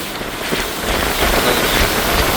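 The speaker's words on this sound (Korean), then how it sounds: "밖에 아직, 아직까지 비가 오고 있고" Steady rain falls outside on the open deck of the Seabourn Quest cruise ship crossing the Atlantic, a broad continuous hiss mixed with wind rush and low rumble, with no talk.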